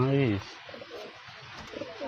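Murshidabadi Giribaz pigeons give a short, close, low coo at the start, then soft rustling and faint background sounds follow.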